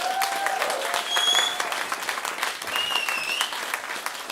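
Audience applause and scattered cheering after a live band set at Strummercamp 2017 festival in Manchester, steady clapping from a crowd with a few whistles, no talk.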